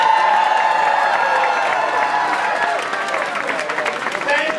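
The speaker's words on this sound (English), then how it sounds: "Please give a huge round of applause to Eric" A large crowd applauds and cheers at a 2008 presidential election victory celebration in San Francisco, loud dense clapping with whoops and shouts continuing throughout, close and energetic.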